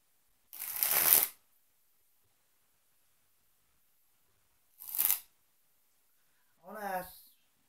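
A deck of playing cards shuffled and handled during a magic trick: a longer riffle burst, then a short second riffle, then a brief rippling card sound, each close and separated by silence.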